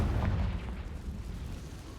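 Confringo spell blasts in the Hogwarts Legacy video game, a dense low rumbling boom that rolls on for about two seconds, heavy and loud with no talking over it.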